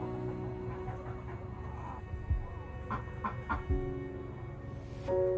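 Marans hen clucking in a chicken coop as she gets ready to lay an egg, a few short calls standing out over a steady low background hum, fairly close.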